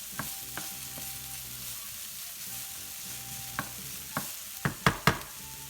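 Onions sizzle and fry in a hot pan with a soft, steady crackle, broken by a few sharp clicks and scrapes of stirring that grow louder toward the end.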